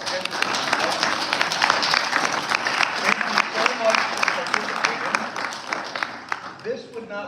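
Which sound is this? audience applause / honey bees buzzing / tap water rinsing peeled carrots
audience applause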